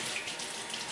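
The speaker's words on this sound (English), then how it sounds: "You put on warm water." Warm water runs steadily from a sink tap into a basin, a smooth, close hiss that stays even throughout with no talking.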